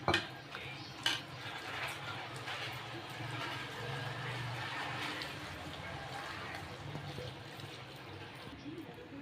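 Bread batter is mixed in a bowl with soft wet stirring and scraping that runs steadily near the mic, opening with a couple of sharp knocks while a voice talks faintly underneath.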